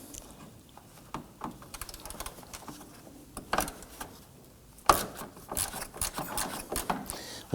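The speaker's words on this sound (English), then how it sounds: "We're gonna use our shallow 10mm socket on our ratchet" A ratchet with a shallow 10mm socket loosening a bolt on the active grille shutter of a 2015-2024 Nissan Murano: rapid, light clicking bursts and metallic ticks, close and fairly quiet, with a sharper clunk partway through.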